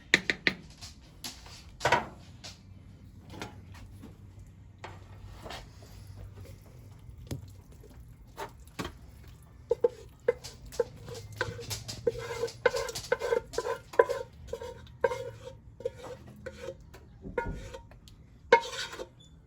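Baked macaroni and cheese is scraped into a pan and spread, giving repeated close clinks and scrapes of a utensil against cookware, with soft wet squelches between the irregular knocks.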